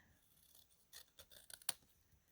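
Scissors snip through the ends of a bead strand in a few quick, crisp cuts, the last one sharpest and loudest, close up in a quiet room.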